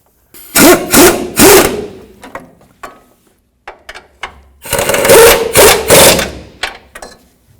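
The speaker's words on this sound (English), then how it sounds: "So now we're going to tighten up the sway bar link, 60mm socket." A 60mm socket on a ratchet snugs down a sway bar link on a 1997-2004 Dodge Dakota, giving loud bursts of rapid ratcheting in two main runs separated by a pause, with scattered clicks in between.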